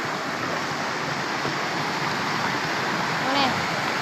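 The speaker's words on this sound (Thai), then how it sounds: "เอาเนี่ยเสียงน้ำได้นะ" Water rushing steadily at a waterfall near a field, a dense continuous hiss with no pauses, heard close with a brief voice over it near the end.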